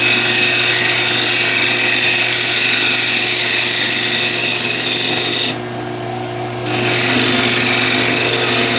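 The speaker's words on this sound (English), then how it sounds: "It's a shear scrape." Wooden bowl spinning on a lathe as a tool shear-scrapes its surface, a steady close whir and rasp with a constant motor hum, cutting out for about a second midway before resuming.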